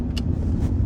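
A car rolls past as a low, steady engine rumble, close and moderately loud, with a couple of faint higher hisses above it and no talking.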